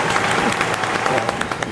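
A studio audience at a Telugu mimicry show claps steadily in a dense, continuous wash, with voices talking over the applause.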